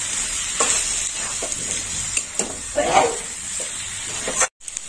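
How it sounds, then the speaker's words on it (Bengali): Ground coriander and cumin being stirred in a frying pan for mocha chicken, a steady close sizzle with scraping spoon strokes and a brief dropout near the end. "দিয়ে দিলাম গুঁড়ো মশলা, আর একটু নেড়ে চেড়ে নেবো"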